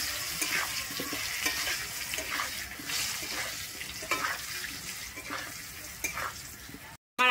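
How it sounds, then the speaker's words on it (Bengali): Potatoes seasoned with salt and turmeric fry in hot oil, giving a steady, close hiss and crackle with occasional stirring scrapes, then a brief cut to silence at the very end. "আমি আলুটাকে এবারে লাল করে ভেজে নেব"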